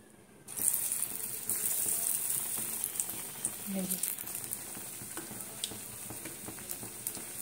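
Beguni, eggplant fritters, drop into hot oil and start frying; a loud sizzle begins suddenly and holds steady, with faint clicks and low speech underneath.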